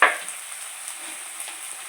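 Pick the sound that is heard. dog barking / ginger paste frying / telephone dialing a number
ginger paste frying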